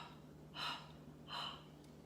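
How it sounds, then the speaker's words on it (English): Two slow Ujjayi breaths during pranayama breathwork, each a soft, hissing, throat-constricted exhale like fogging a mirror, close and quiet against a faint steady hum, with no talk. "In Ujjayi breath, it's like you're closing off the sides of the throat. Like you're fogging up a mirror."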